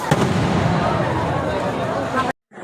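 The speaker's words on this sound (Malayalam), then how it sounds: "അവിടെ ചെറിയ ചെറിയ ഓരോന്ന് വേറെ പടക്കങ്ങൾ പൊട്ടുന്നുണ്ടായിരുന്നു" Dense, continuous crackling bursts of firecrackers at a temple festival fill the scene, loud and busy, with a babble of voices underneath before cutting off abruptly near the end.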